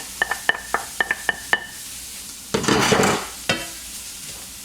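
A utensil mixes vegetables and eggs in a frying pan for shrimp fried rice, starting with a run of sharp, evenly spaced taps, then a loud scraping, sizzling stir and a final clank.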